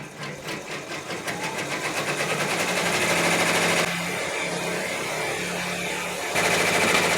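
A multi-needle embroidery machine stitches a fabric block held by tape, giving a fast, steady mechanical chatter that stays close and continuous. Its tone shifts partway through, then picks back up.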